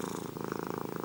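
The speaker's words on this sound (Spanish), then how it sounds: "Estas canciones incluyen ronroneos" Cat purring within music made for cats, a close, soft, steady rhythmic rumble with fast regular pulses, heard alone.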